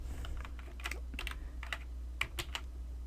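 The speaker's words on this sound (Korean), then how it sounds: "컨트롤 누른 채로 N 누르고" Keys pressed on a computer keyboard while entering a Ctrl+N shortcut in word-processing software: a short cluster of light, close clicks in uneven rhythm over a constant low electrical hum, with no one talking.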